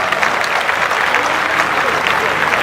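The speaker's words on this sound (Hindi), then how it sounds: "जोरदार तालियां जी।" Loud, dense applause from an audience at a live Punjabi charity event in India, filling the air continuously with crowd noise.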